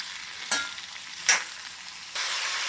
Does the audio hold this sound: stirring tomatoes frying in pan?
yes